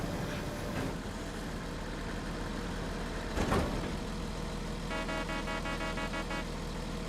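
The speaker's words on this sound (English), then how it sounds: "Yeah, got new engine sound and a decent air horn." A truck in Farming Simulator 25 rumbles steadily at idle, with a brief burst near the middle and then a sustained air horn blast sounding over the engine drone for over a second.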